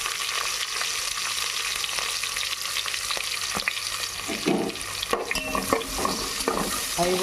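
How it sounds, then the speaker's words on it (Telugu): Ingredients for gongura rice sizzle steadily in hot oil, with occasional scrapes and clinks of a spoon stirring the pan, close and continuous with no talking. "అవి కూడా మంచిగా ఫ్రై చేసుకోవాలి."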